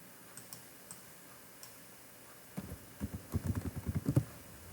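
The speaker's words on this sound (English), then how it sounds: "I'm going to type in Hitler quoted Luther." Computer keyboard typing: a few sparse clicks, then a quick burst of closely spaced keystrokes near the end, fairly quiet against a low background.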